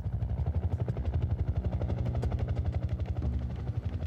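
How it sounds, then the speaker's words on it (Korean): Helicopter flying overhead near a residential street during a police search, its rotor chopping in a steady, loud, fast rhythm that fills the whole stretch without any voices. "헬기 소리도 들렸죠."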